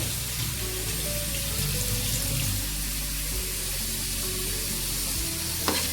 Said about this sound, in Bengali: এদিকে আলুটা আমার ভাজা চলছে।